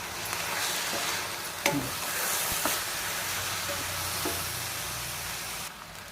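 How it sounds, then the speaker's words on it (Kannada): Vegetables fry in tempering oil for avarekalu upma, giving a steady broad hiss with a few sharp spatters and stirring knocks. "ಇದನ್ನು ಒಗ್ಗರಣೆ ಫ್ರೈ ಮಾಡ್ಕೊಂಡ್ರೆ ಸಾಕು"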